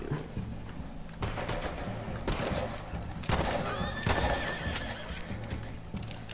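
A horse in Red Dead Redemption 2 whinnies loudly and clearly, with hoof clops and a few distant gunshots behind it, all over a steady layer of in-game ambience and music.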